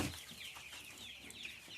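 A hen clucks softly inside a henhouse, a few low muttering clucks over a faint, steady background hiss.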